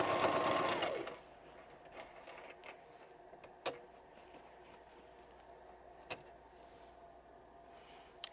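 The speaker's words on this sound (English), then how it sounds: "I'm just going to sew straight across." A sewing machine stitches straight across a pencil pouch seam, a brief fast whirring run near the start, then quiet with a few sharp clicks and taps of fabric handling.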